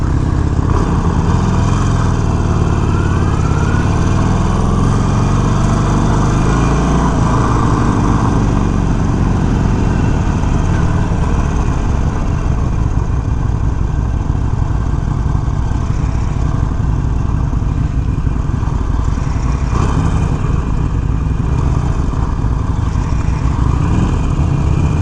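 A 2021 Harley Davidson Sportster 48 motorcycle engine running while riding, a loud, continuous low rumble with shifting revs and wind, close and unbroken throughout.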